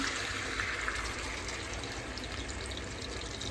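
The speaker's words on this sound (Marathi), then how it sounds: "आता ह्याच्यामध्ये हे पाणी टाकायचं." Water is poured into a pan of pieces being grilled, a steady close rushing splash and trickle lasting the whole time, with no talking.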